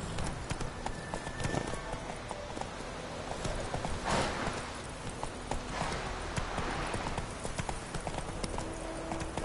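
Hooves of a galloping horse in The Witcher 3 clip-clop in a steady, rapid rhythm, close and continuous beneath layered game ambience.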